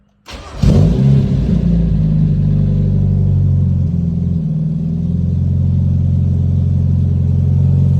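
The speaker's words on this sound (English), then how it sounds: "So let's do a start. And she's cold as shit, so cold start." A Mazda Miata drift car, cold and low on oil, cranks briefly and fires up, revving loudly before settling into a steady, close idle that lasts to the end.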